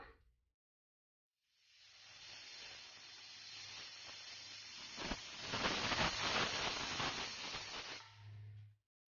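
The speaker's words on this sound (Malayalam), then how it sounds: "കുക്കർ മൂടി വെച്ച് നമുക്കൊരു മീഡിയം ഫ്ലെയിമിലിട്ട് ഒരു 4 വിസിൽ വരുന്നത് വരെ ഒന്ന് കുക്ക് ചെയ്തെടുക്കാം." A pressure cooker on medium flame, cooking meat and tapioca, gives a steady loud hiss of escaping steam that builds and holds for several seconds, with a low tonal whistle underneath, then cuts off abruptly.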